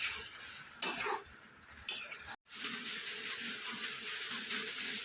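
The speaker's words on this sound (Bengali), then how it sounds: "আর এখন এই কাপ নুডলসটা এখানে ঢেলে দিলাম" Cup noodles go into a hot pan and are stirred, giving a soft sizzle, scraping and clinks of utensil against the pan with a brief pause, quiet and close.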